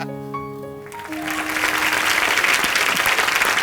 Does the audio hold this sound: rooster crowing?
no